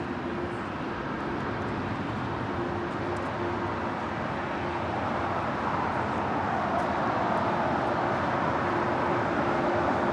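An Aeromexico Boeing 787-9 Dreamliner on approach to land at LAX, a steady broad jet roar at moderate distance that swells slightly toward the end, with a faint tonal whine running through it.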